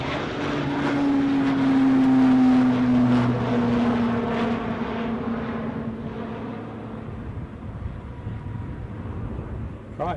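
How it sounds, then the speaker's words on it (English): An Eastern Airways plane departing Aberdeen airport, heard as a loud, steady engine drone with a rising whine that slowly fades over ten seconds. "I think I spy an Eastern Airways departure tuzzing along"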